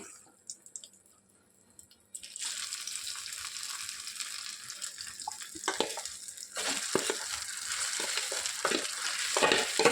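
Mango pieces tip into a hot oiled pan and a loud, steady sizzle follows with intermittent stirring scrapes, growing busier toward the end; a quiet pause comes before the sizzle, and no one talks.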